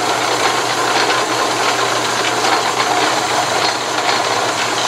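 An Atlas metal lathe runs in reverse to back the cutting tool out of a metric thread, giving a steady mechanical whir with a faint rattle throughout, close and continuous.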